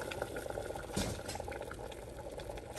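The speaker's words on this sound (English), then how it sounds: "boil some water" A pot of water for Korean budae-jjigae is at a rolling boil, a dense steady bubbling hiss that continues without pause and has one brief louder burble.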